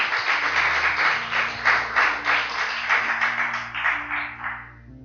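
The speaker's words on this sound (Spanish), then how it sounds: "y le damos un aplauso." A church congregation applauds during a service: a steady wash of clapping from many hands that fades toward the end, with low sustained tones humming underneath.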